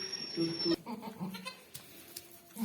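A mother goat with newborn kids gives a couple of short bleats, followed by soft rustling and small animal sounds nearby, with someone speaking quietly over part of it.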